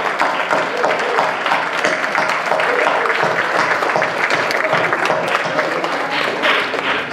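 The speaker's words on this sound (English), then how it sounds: "let's all give a big applause for Tawfiq Bhai, the chairperson, and all the members of the reunion organizing committee by standing up and clapping hands" A standing audience at an evening reunion gathering claps hands together, a loud, busy patter of many individual claps sustained throughout about seven seconds.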